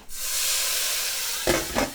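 Loud steady hiss of squid sizzling in a hot wok, with sharper bursts of crackle near the end as liquid hits the pan.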